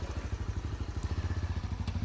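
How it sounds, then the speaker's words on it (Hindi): A motorcycle idles close by after pulling up at a cold mountain stop on the way to Rudranath, its engine giving a fast, even, low throbbing pulse at moderate loudness with no voices over it. "ये भाई साहब मुकुल जी बाइक लेके आ गए, इधर लगा दो।"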